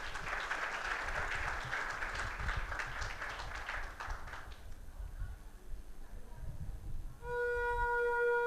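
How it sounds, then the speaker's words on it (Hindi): Audience applause at an International Day of Yoga celebration, dense clapping for about five seconds that fades, followed by quieter sounds and a sustained tonal note near the end. "मैं सभी से एक बार फिर विनम्र आग्रह करती हूं कि आप तालियों के साथ हमारे इन साधक बटुकों"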